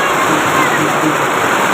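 Heavy rain pours down in a steady, dense hiss that fills the whole stretch, loud and close, with a voice speaking faintly underneath.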